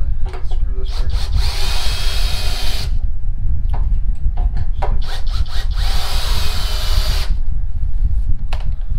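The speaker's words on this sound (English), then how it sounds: "And then you're just gonna screw this right on." A power drill drives screws into wood shelving in two long, loud whirring bursts, each a few seconds, with scattered knocks, clicks and shuffling handling noises between them, close up.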